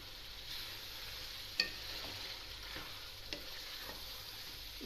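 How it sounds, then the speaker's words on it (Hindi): Chicken frying with green chillies in a karahi, giving a steady low sizzle with occasional spatula scrapes and clinks against the pan, close and fairly quiet. "अब चिकन मेरा भून रही हूँ"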